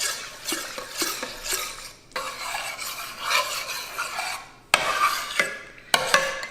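Butternut squash soup with maple syrup and apple cider vinegar being stirred in a pot, a steady close scraping and swishing of a utensil in several strokes, no voices.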